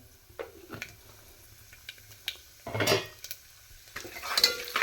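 Urad dal and moong dal crackle with mustard seeds in hot oil for rice upma, heard as scattered light sizzling pops mixed with clinks and scrapes of a spoon against the pan, close and intermittent.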